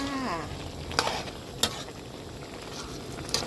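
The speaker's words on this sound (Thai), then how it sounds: "เติมไข่ผัดให้เข้ากัน" Zucchini and egg stir-fry in a hot pan, a steady close sizzle broken by a few sharp spatula scrapes and clacks against the pan, with no talking.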